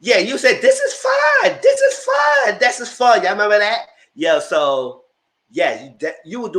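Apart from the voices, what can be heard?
None of the usual background noises is heard.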